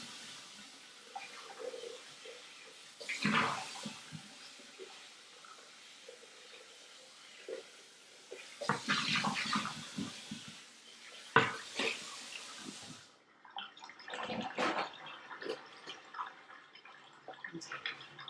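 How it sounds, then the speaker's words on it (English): Tap water runs in a few bursts while a Thermomix bowl is rinsed under it, splashing and clattering in the sink, with a person talking quietly in the pauses. "I'm just going to rinse this super quick."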